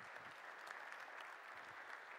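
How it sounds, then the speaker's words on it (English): An audience at a forum applauds its panelists, a brief, steady burst of dense clapping from a moderate distance that holds evenly for a couple of seconds. "A round of applause, ladies and gentlemen,"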